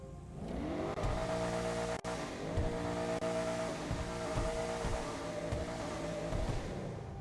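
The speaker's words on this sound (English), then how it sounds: "It sounds pretty good for an SUV" The Gallivanter Baller ST SUV's engine in GTA Online revs up and accelerates steadily, a sustained mid-range roar with rising pitch sweeps, fairly loud and continuous with no talking.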